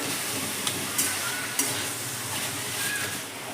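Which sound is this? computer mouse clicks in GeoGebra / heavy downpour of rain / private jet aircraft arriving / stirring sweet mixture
stirring sweet mixture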